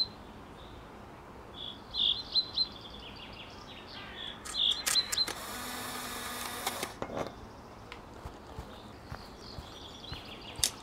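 Bird chirping in the video game Sally Face, a few short high chirps repeated in small clusters over a quiet ambient background, with a brief burst of buzzy noise in between.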